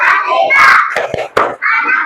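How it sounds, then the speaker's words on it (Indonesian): A third-grade class of children does a rhythmic group clapping chant in a classroom. Quick bursts of claps mix with the children's chanting voices, loud and close. "tepuk kelas 3."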